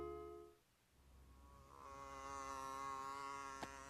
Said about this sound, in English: Fly goes by.